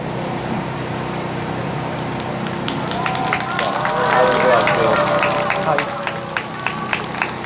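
Audience applause greets university flag delegations entering a Korean student rally, a steady wash of clapping with crisp hand claps over a continuous crowd murmur and amplified speech.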